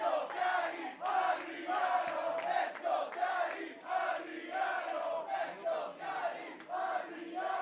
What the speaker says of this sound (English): And you can hear this crowd split